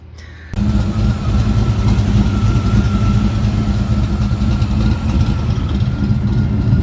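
A 1969 car's V8 engine with a new Holley Ultra Street Avenger carburetor starts up and settles into a loud, steady rumbling idle close by, with no talk over it.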